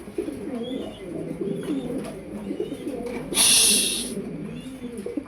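Many pigeons coo continuously in low, rolling, overlapping calls close by. A brief burst of hissing breaks in partway through.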